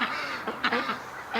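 Ducks quack in a short, agitated flurry of several loud calls, close by and overlapping, as a Canada goose comes in.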